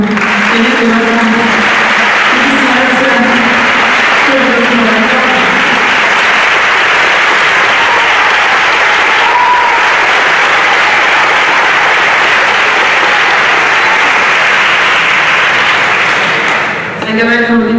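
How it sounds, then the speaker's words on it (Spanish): Loud, sustained applause for an orchestra at a copla concert, with a voice speaking over the start before the clapping carries on alone and fades at the end. "pido un fuerte aplauso para esta pedazo de orquesta"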